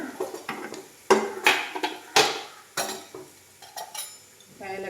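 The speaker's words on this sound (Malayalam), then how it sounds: "ഉള്ളിയും ക്യാരറ്റും നല്ലതുപോലെ വാടിക്കുന്നു" Onions and carrots sauté in a pan with a busy mix of metal spoon clinks, scrapes and clatter against the pan over a low sizzle, in close, irregular bursts.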